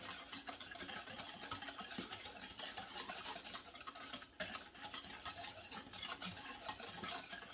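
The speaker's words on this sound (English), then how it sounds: "mix with a small whisk" A small whisk stirring seasonings, brown sugar, bourbon and apple cider vinegar in a bowl, giving a quiet continuous scraping swish with soft clicks throughout.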